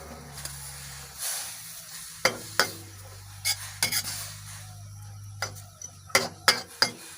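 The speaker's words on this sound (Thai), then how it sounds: "ปล่อยให้เดือดแล้วก็สุกแล้วเนาะ แล้วก็ผัดไปเรื่อย ๆ นะคะ" Peas and bean sprouts are stir-fried in water in a pan, with a low hiss of simmering broken by repeated sharp scrapes and clacks of a spatula stirring.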